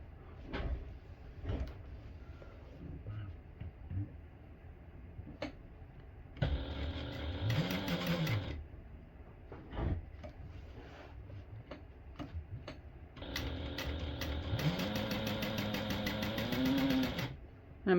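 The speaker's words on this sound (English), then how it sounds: "Now I'll go ahead and top stitch this handle in place." Sewing machine top stitching a handle onto a small tote bag, running in two sustained bursts of steady motor whir with a pause of quieter ticking and handling noises between them.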